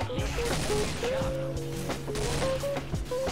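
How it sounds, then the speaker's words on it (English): Shotgun blasts in the video game Left 4 Dead 2, sharp bursts of gunfire over game music and effects, fairly loud and repeated in quick succession. "I just shot a mannequin, that's good."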